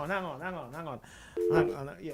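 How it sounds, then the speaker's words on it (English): A landline telephone rings with a warbling, repeating electronic trill, close and fairly loud, followed by a steadier tone, with a voice present alongside. "the landline is ringing right now."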